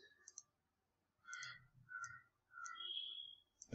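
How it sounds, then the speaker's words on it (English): Short, quiet bursts of clicking keystrokes on a computer keyboard typing a single word, with scattered taps and brief pauses between them and no talk. "let me type welcome here"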